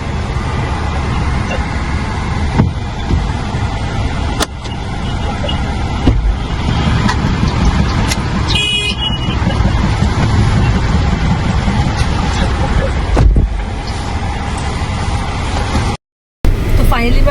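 Inside a moving car, a steady engine and road hum runs throughout, with occasional clicks and knocks and a short high electronic beep sequence.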